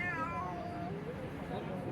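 A cat chasing a pigeon lets out a drawn-out meow, then quieter whining calls, heard close over a low murmur of background noise.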